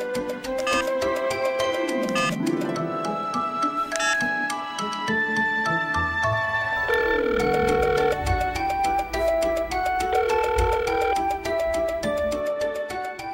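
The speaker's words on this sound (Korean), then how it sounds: "수화기를 들고 119를 눌러요" A home telephone being dialed to 119: a series of short keypad beeps of varying pitch, then a steady ringing tone repeating at regular intervals, clean and close with no talking.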